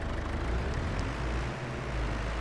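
A tractor engine in Farming Simulator 22 runs in a steady, continuous drone with a broad low rumble, alone and without talk.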